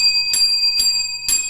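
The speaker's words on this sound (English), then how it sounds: "It's the bell. It's the weather bell." A weather bell sounds three clear metallic strikes about half a second apart, each with a bright ringing tone that lingers faintly between hits.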